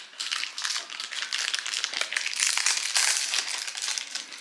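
Loud, continuous crinkling and crackling of plastic packaging as it is torn and unwrapped, dense and close-up throughout with no pauses and no talking.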